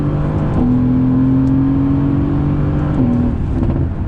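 A Mercedes-AMG GT under throttle on the track gives a smooth, steady engine whir and hum, close and sustained, with a slight shift in pitch near the end and no voices.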